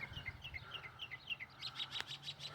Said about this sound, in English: You can look at the sparrows.